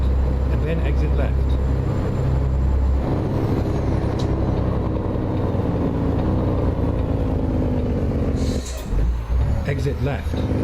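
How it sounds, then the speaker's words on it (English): A Caterpillar C15 truck engine in American Truck Simulator drones loud and close with a heavy, steady low rumble, then a sharp air hiss breaks through near the end. "Yeah, now the C15 sounds, the new engine sounds that Creech did, the Jake sounds awesome."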